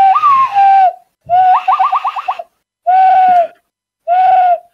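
A person imitates bird calls in four loud, close whistled bursts separated by pauses, one with a rapid warbling trill, the voice mimicking birdsong.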